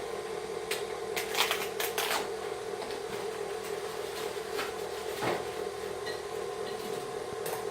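A stand mixer runs on its stir setting through cookie dough for holiday baking, giving a steady close motor hum with irregular clicking and rattling on top, and no voices.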